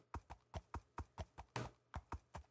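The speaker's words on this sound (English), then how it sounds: "This is a horse." A horse's hooves clip-clop in a video game, about a dozen evenly spaced, close, crisp hoof strikes with one scuffier hit partway through, clear against silence.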